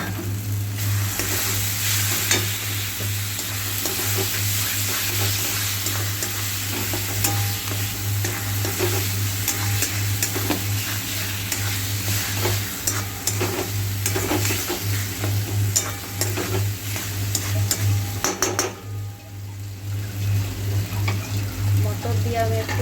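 Peas tipped into a pan of fried spice masala for a cauliflower keema matar sizzle steadily while a spoon stirs and scrapes throughout, with a low constant hum underneath.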